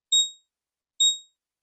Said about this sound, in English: Chart alarm, Comcast 4102 highs.